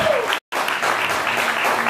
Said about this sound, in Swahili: Wapigie makofi wanapokuja.